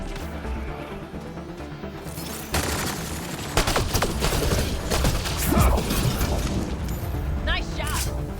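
Sci-fi gunfire from the video game Mass Effect: Andromeda, dense bursts of shots and impacts cutting in loudly after a quieter opening, with a voice talking beneath the combat.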